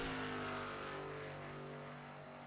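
Number 33 race car leaving pit road onto the speedway in a racing video game, a steady engine drone with a held tone that slowly fades as it pulls away.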